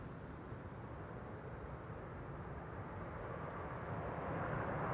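Embraer 190 jet flying for Air France and KLM taking off at Amsterdam Schiphol, a broad steady engine roar that slowly grows louder over the seconds, with no voices.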